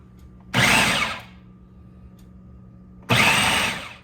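A food processor pulses raw shrimp in two loud bursts of about half a second each, separated by a quiet gap with a faint steady hum.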